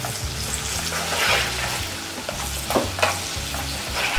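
Minced shallots and garlic sizzle loudly in hot frying fat in a pan, cooking down with brown sugar for braised spicy mackerel scad, with continuous crackling and occasional stirring scrapes close by, no voices.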